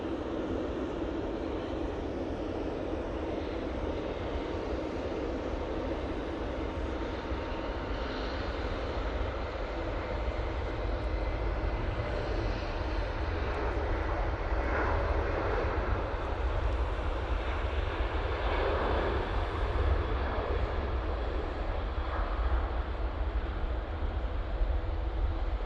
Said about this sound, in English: We'll jump onto the Jet2 737-800 that's going off to Corfu now.